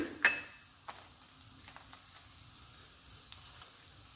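Garlic, curry leaves and tamarind fry in a pan with a faint, steady sizzle, broken by a few soft clicks and taps from stirring, for a dried red chilli coconut chutney.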